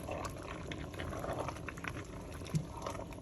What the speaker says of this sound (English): I'm going to add in my pasta. Ooh. And stir that around.